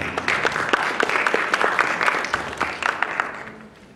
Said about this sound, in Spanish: recibámoslo con fuerte y calurosos aplausos.